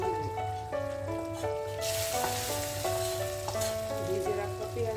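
Desi chicken curry sizzles in a pan as fried garam masala is stirred in, a steady crackling fry with scraping stir strokes, heard close under soft background music.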